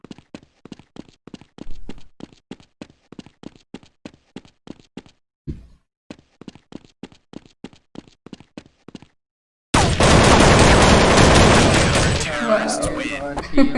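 Counter-Strike gameplay delivers rapid bursts of sharp, evenly spaced weapon shots in two volleys separated by a brief pause, followed by a sudden loud broadband rush of noise to the end.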